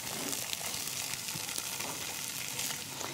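Tofu pan-frying in oil until golden on both sides, a steady, gentle sizzle with soft crackles and no talking.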